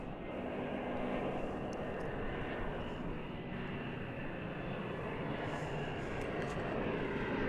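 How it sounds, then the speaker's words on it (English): Frontier Airlines Airbus A321 jet arriving at DFW Airport, a steady, broad roar of engines approaching at a distance and holding constant throughout, with no talking. "It's an Airbus A321 flight 3414."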